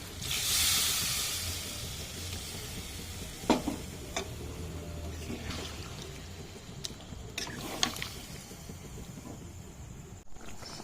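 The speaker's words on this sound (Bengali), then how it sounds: "এবার আমি দেবো এর মধ্যে জল, দিয়ে দিচ্ছি বা জল।" Water is poured into a pan of sizzling meat curry with a sharp initial hiss. A steady low sizzle follows, with a few clicks and knocks from stirring, and no talking.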